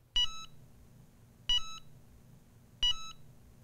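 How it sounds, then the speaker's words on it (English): A Cricut EasyPress 2 heat press gives three short, identical electronic beeps at an even pace before automatic shut-off, each one sharp and clear over a faint background hum. "you'll hear a triple beep"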